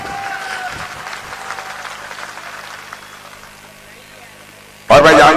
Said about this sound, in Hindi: सच्चाई है तो ताली बजाइएगा।